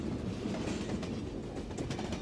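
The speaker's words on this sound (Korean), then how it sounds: "그저 기차가 달리는 차창밖 풍경과 덜컹거리는 바퀴 소리만 들릴 뿐" A train running along a Norwegian rail line, with a steady rolling rumble and rhythmic clatter of wheels over the rails, heard continuously and without speech.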